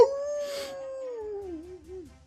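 A person imitates a dog howling with one long voiced howl that slowly falls in pitch and wavers near the end, fairly close and alone.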